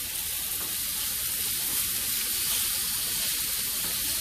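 Jerk chicken pieces sizzle loudly in a hot pan while being turned, a dense, steady frying hiss that holds unbroken throughout, with no talking.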